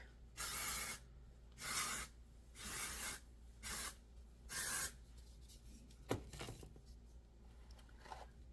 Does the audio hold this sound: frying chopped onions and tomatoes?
no